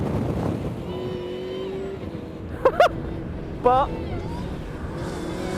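A 2014 Ariel Atom 3.5R sports car driving around a wet track, a steady engine drone with brief sharp revving rises, heard under close talk.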